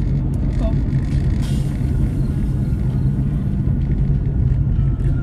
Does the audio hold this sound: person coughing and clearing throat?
no